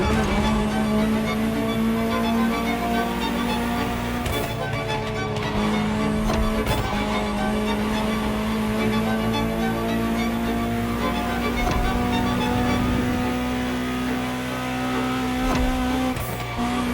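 A high-revving Ferrari supercar engine in The Crew Motorfest drones steadily for a long stretch, pitch rising and shifting with gear changes, loud and continuous with no voices.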